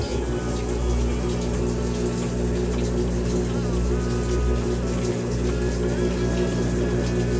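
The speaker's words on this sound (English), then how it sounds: "I think it's rinsing" A Whirlpool 4.7 cu. ft. washing machine rinses a load with a continuous loud rush of water and a pump-like hum. The sound stays steady and close throughout.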